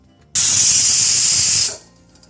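A loud, steady hiss of steam bursts out suddenly from a pressure cooker whistle, holds for over a second, then cuts off and fades.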